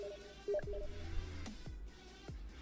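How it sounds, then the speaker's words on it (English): A Steam chat message notification: a short pair of soft electronic chimes, followed by a few dull thumps, with a faint room background and no speech. "Can I turn off the notification sound?"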